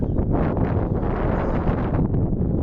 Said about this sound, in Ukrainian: у нас сьогодні погода дуже паршива, вітер.